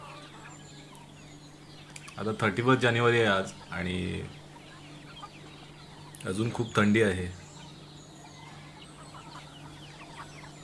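Village desi chickens cluck in short close bursts while pecking at leftover Diwali chakli snacks, with someone talking between the calls.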